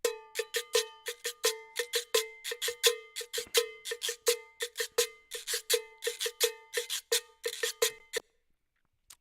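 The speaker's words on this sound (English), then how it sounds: "So the cowbell sounds like this." A cowbell in Latin percussion style struck in a steady, fast rhythmic pattern, bright metallic clanks repeating for about eight seconds, loud and close, then stopping.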